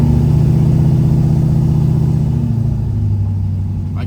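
1970 Plymouth GTX Hemi V8 pulling hard on light throttle, a loud, deep, steady engine roar that slowly eases off toward the end.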